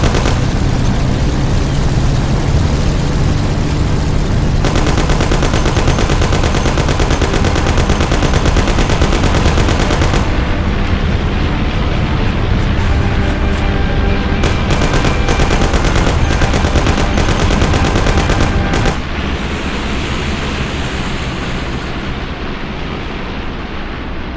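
Sustained heavy gunfire in a movie car shootout, automatic weapons blazing continuously and loudly for most of the stretch with a dense roaring backdrop, then easing into a quieter rumble near the end.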